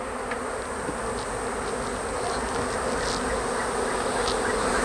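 Honey bees in an opened beehive make a steady, dense buzzing drone that holds evenly throughout, close and continuous with no talk.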